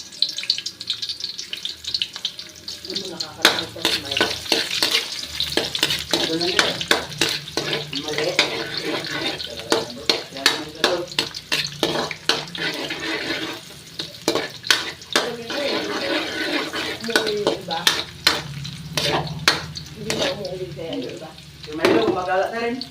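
Onions sizzle in a pan in a rural provincial kitchen while a utensil scrapes and stirs them in repeated sharp clicks, with a constant frying hiss underneath.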